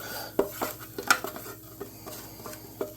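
A spoon scrapes and clinks against a pot as fried onions go into potatoes for homemade potato and onion pierogi, giving close, scattered taps over a soft sizzling background.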